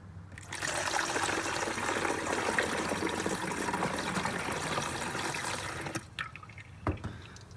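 Fluid pouring steadily from a jug into a fluid reservoir under the hood of a Honda Pilot, a continuous close trickling gush that stops near the end, followed by a few handling knocks.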